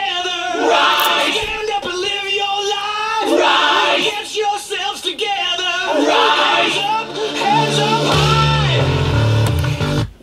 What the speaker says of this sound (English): The song starts with this big a cappella chorus.